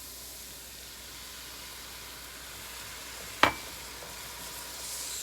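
Cauliflower fried rice hisses and sizzles softly in a hot pan while being stirred, a steady low frying noise broken by one sharp clack of a utensil against the pan.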